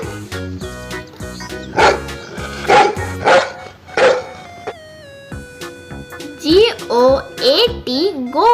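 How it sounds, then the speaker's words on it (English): A domestic dog gives a series of short barks and yips in quick bursts, fairly close and loud, mixed with other sounds. "DOG dog."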